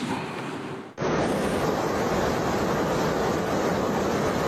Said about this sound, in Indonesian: arus Sungai Kertosono mengalir deras dan debit air sungai meningkat